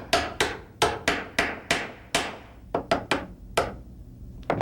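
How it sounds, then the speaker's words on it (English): About fifteen sharp metallic hammer strikes on a rounded punch drive a pin flush with a pistol frame, close and loud, in uneven bursts with short pauses between them. "take a rounded ended punch, set in the little detent in the pin and just drive it right through until it's"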